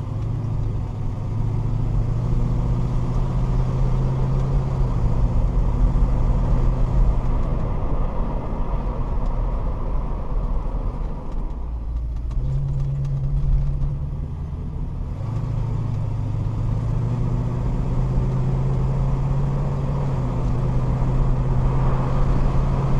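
A red 1969 Mercury Cougar cruising along the road, with a steady, loud engine rumble and road noise that carries on throughout with gear-like pitch shifts and no voices.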